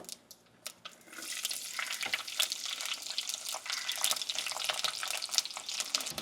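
Mustard seeds, fenugreek, cumin and garlic fry in hot oil for a Jaffna-style fried fish curry, giving a steady, close crackling sizzle after a brief quieter start, with scattered pops throughout.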